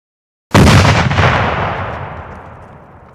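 A 16-inch gun on the battleship USS Iowa fires once, a sudden huge close blast after half a second of silence, followed by a long roaring rumble that slowly decays.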